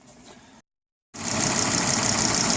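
A car engine idles steadily and loudly as a cooling system is bled after head gasket repair work, with a steady broadband rumble. A short stretch of near silence comes first, then the engine sound holds.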